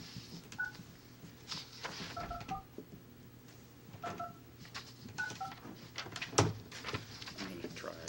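A phone is dialed to call a participant into a county election review committee meeting: a series of short beeping touch-tone key presses in scattered clusters, fairly faint, amid room noise, thumps and people talking.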